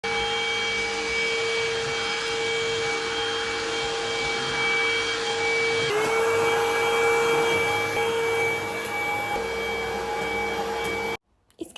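Vacuum cleaner running steadily on a floor indoors, a continuous loud motor whine with strong tonal hum, slight pitch shift midway, cutting off abruptly near the end.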